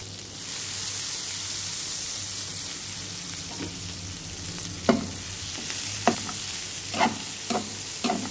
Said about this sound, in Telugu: మన రొయ్యల ఫ్రై ఆల్మోస్ట్ రెడీ అయిపోయిందండి. ఒక 2 మినిట్స్ ఇలా పెట్టేసి ఇంకా తీసేస్తే చాలా బాగుంటుంది.